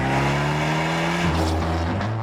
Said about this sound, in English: Abarth have given it something called the Record Monza exhaust system. What it does is make a small car produce a big car noise